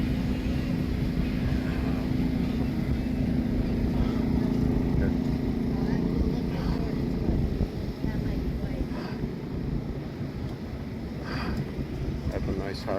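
A Harley motorcycle at a drag strip during AMRA test-and-tune racing at Byron Dragway: a loud, steady engine drone rumbles continuously with wind buffeting the microphone while people talk over it.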